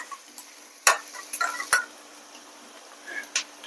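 Onion stirred in a pan over a fairly high gas flame, a soft sizzle with a few sharp scrapes and clinks of the spoon against the pan, set against a quiet background.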